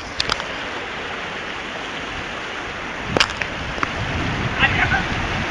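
Rushing water of river rapids, a steady broadband wash that grows somewhat louder toward the end, broken by a few sharp splashes or knocks.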